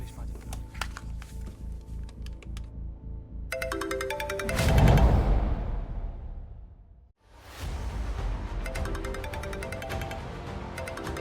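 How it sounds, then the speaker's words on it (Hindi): A mobile phone ringtone plays a bright, repeating chiming melody in bursts, with a brief whooshing swell in the middle and a short pause before the ringing resumes. "सर आपका फ़ोन बज रहा है"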